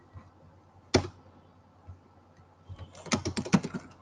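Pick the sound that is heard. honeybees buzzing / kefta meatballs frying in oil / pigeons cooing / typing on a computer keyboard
typing on a computer keyboard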